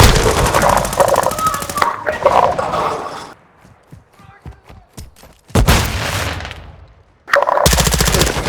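Loud automatic gunfire from the video game Call of Duty: Modern Warfare II comes in dense, sustained bursts. A quieter stretch of scattered single shots and clicks sits between them, and a voice may be faintly present.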